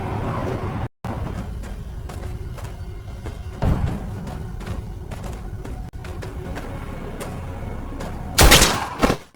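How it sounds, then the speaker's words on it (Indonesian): Gunfire in an action film scene set near a forest, heard as scattered loud bursts and thuds over a rumbling soundtrack, with one especially sharp, loud blast near the end. "Mereka mendengar banyak suara tembakan."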